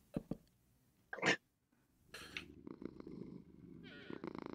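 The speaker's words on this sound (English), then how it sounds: "I got a purring kitty cat." A pet cat purrs close by in a bedroom, a soft continuous rumble that starts after a few short thumps and a brief sharp noise, with quiet background sound throughout.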